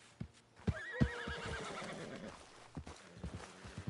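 A horse whinnies with a long, wavering neigh in the open world of Red Dead Redemption 2, set over scattered hoof clops and thuds that continue after the call fades.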